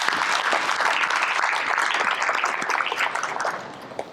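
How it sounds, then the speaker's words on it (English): A conference audience applauds its sponsors at an opening speech, with dense, steady clapping from a large crowd that fades slightly toward the end. "I'd like to give them a hand of applause."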